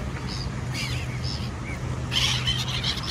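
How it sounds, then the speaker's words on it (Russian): Seagulls on a sea beach give a few short, repeated cries at moderate distance over a steady low background rumble of wind and water. A brighter burst of sound rises near the end. "Смотри, кто это? Это чайки!"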